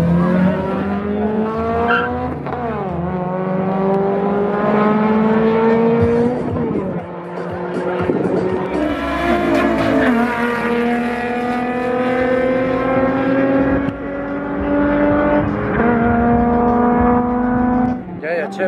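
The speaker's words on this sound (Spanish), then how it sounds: "ya están avanzando las carreras" Quarter-mile drag racing cars at a legal event in Arequipa, engines revving loud and close, rising in pitch through the gears with tire squeal, while a voice talks over the noise.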